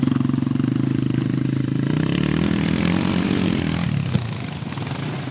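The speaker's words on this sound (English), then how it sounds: "There's the only way that bike can go, down the hill" A Yamaha XT 350 motorcycle runs downhill, its single-cylinder engine droning loudly and steadily close by before easing off near the end.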